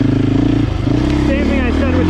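A 2024 GasGas enduro motorcycle engine runs steadily while being ridden, a continuous loud drone and buzz with slight shifts in pitch, and someone talks over it throughout.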